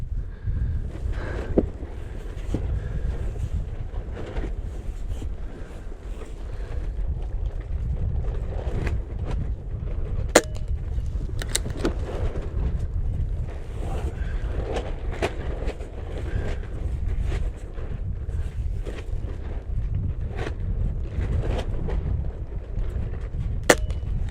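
A BSA Ultra SE .22 air rifle is fired outdoors in gusty wind. Several sharp, fairly faint cracks sit spaced apart over a steady low wind rumble.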